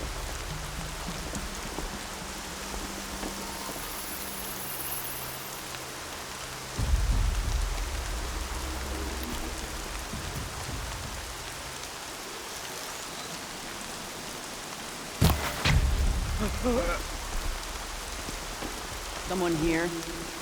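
Steady rain hiss falls over a game world in Horizon Zero Dawn, a continuous wash of drops on surfaces with low rumbling underneath, a sharp louder burst near the end and brief voice-like sounds.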